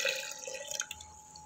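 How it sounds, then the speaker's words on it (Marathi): Water being poured into a mug of banana peels, heard as soft, close trickling and dripping that fades over a second and a half. "ह्याच्यामध्ये साधारण अर्धा लिटर पाणी घालणार आहे"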